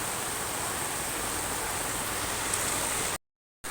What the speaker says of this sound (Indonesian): Dan kalau kebetulan ketemu dengan hujan deras kayak gini